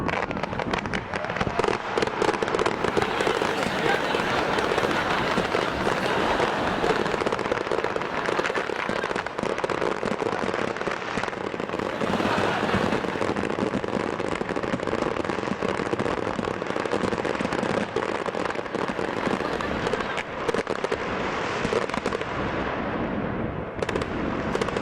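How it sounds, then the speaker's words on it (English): A fireworks display going off all at once, a dense continuous barrage of overlapping bangs, crackles and bursts at full loudness for the whole stretch, with no pauses between blasts. "due to a technical hitch, all the fireworks went off in under a minute"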